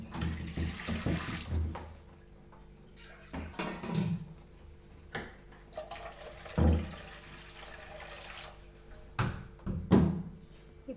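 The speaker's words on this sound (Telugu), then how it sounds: "ఇప్పుడు ఈ బాండీలో ఇట్లా చిన్న సగం వరకు వాటర్ వేసుకోవాలి." Tap water runs and is poured into a kadai (bandi) to fill it about halfway for steaming dhokla made from dosa batter, with splashing bursts and clinks of the pan in a quiet kitchen.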